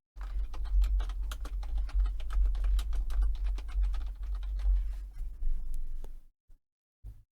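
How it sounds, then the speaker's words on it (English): Rapid, steady clicking of computer keyboard keys as text is typed, close and fairly quiet, running for about six seconds before stopping, with a couple of isolated taps after. "type in some text."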